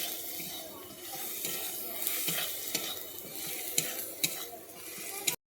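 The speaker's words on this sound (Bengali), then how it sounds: "এরপর আমি দিয়ে দিচ্ছি ধনে গুঁড়ো আমি মশলাটাকে একটু কষিয়ে নিচ্ছি" Coriander powder and spices sauté in a pan for a prestige prawn and mushroom dish, giving a soft, steady sizzle with light scraping and stirring taps, fairly quiet and close.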